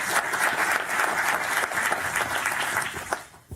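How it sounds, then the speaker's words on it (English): Audience applause at a World Economic Forum open forum on agricultural evolution, a steady, dense crowd clapping throughout that thins and fades in the final moment. "Round of applause, please."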